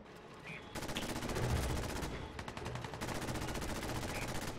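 Rapid automatic gunfire rattles in Fallout 4 combat against robots, a loud sustained burst of shots that starts after a brief quieter moment and continues steadily to the end.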